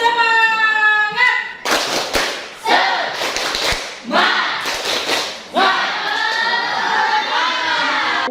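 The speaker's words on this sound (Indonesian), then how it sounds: "Tepuk semangat." A group of schoolchildren in a classroom chant in unison while clapping in a rhythmic pattern, with sharp, close clap bursts punctuating loud sung voices.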